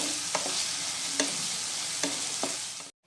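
Ginger, garlic and green chili paste frying on a low flame in a pan for a Bengali mutton curry: a steady close sizzle with a few spatula scrapes from stirring, cutting off abruptly at the end.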